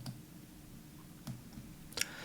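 Three faint, brief clicks spaced out over a quiet background, the last one slightly sharper, like a computer mouse button being pressed.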